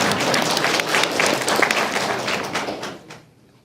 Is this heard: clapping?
yes